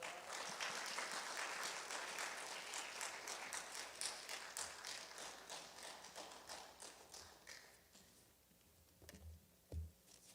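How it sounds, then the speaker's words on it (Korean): A church congregation at a Sunday worship service claps in welcome for the pastor, a dense burst of applause that thins out and fades, ending with a few scattered taps and knocks. "우리 새소명교회의 큰 박수로 우리 목사님을 환영하도록 하겠습니다"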